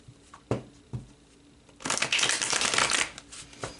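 Tarot cards are handled with a few light taps and flicks, then riffle-shuffled in one quick, close, crisp burst lasting about a second before trailing off.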